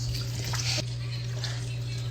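Running tap water pours into canning jars, a steady, close hiss with a strong low hum, briefly brightening as the flow splashes.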